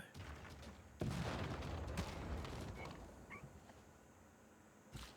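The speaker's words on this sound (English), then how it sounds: "that field cannon's a good upgrade" A field cannon fires in Civilization VI, with one sharp loud blast followed by a rumbling boom and scattered crackling gunfire that fades into quieter battle noise.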